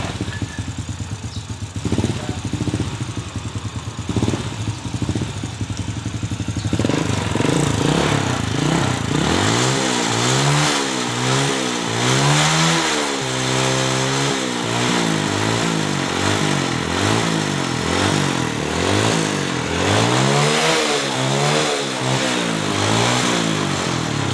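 A Honda Supra motorcycle engine with a fitted exhaust revs repeatedly, loud and close, with rising and falling throttle blips over a rough idle; the engine is faulty and smoking.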